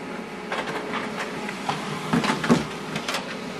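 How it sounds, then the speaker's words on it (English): An HP LaserJet Pro 3002dwe laser printer running a two-sided print job, with soft mechanical whirring and a few louder clunks and paper-feed rattles at irregular moments, close by and without speech. "this document is sent to the printer and we are printing it out"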